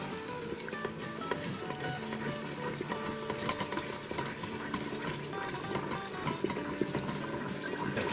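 Yogurt being stirred quickly into mutton paya in an Instant Pot, giving a steady sizzling, bubbling frying sound with scraping stir noises throughout and no speech.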